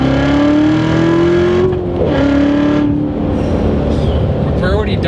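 A 2015 Corvette Z06 accelerating hard on a public road, its engine loud and close, the note climbing steadily through a gear before a brief dip at the shift and another rising pull, heard from inside the car.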